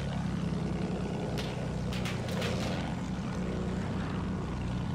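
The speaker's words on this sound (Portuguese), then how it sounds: "Estou aqui com meu avião de ataque." An attack airplane's propeller engine in the video game Battlefield 1 gives a loud, steady droning hum throughout, with a few brief higher whooshing bursts midway.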